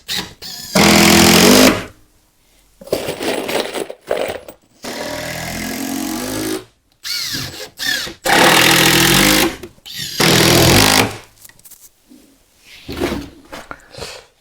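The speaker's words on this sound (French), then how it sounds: "j'ai plus qu'à visser sur le trait" A screw driven into a wooden floor joist with a power driver, loud whirring bursts of a second or so separated by pauses, close and harsh, with quieter handling noises between.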